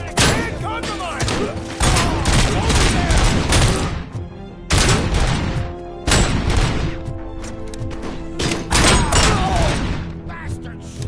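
Rapid bursts of gunfire from the RoboCop video game, loud and dense, with volleys of shots and heavy thuds arriving in waves under game voices.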